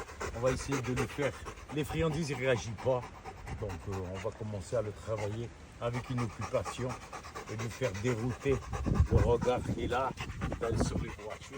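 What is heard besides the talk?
reactive rottweiler dog panting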